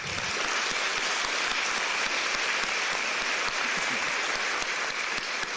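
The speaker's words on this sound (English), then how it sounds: "So give yourself a round of applause." Guests at a business association's banquet dinner applaud, a loud, continuous wash of many hands clapping that stays even and unbroken from start to finish.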